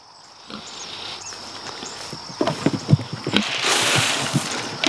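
Pigs being raised for meat on a farm grunt and snuffle in short, close bursts, with a busier run of grunts and rustling in the second half over steady outdoor background noise.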